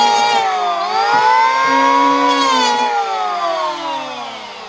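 A power sander with 60 grit paper runs against a hardwood charcuterie board, a loud, close motor whine whose pitch dips, rises and slowly falls as the load on the tool shifts.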